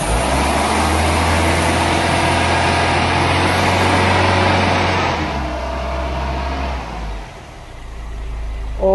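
A Ford Pinto engine idles at about 800 rpm with a steady, loud, low mechanical drone that eases slightly toward the end, with no voices.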